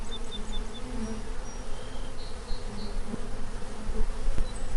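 Bees gather nectar and pollen among flowers, a steady layered buzz of many insects with occasional closer passes drifting by, loud and constant over a soft outdoor background.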